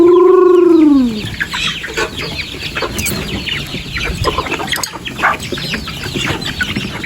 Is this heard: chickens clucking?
yes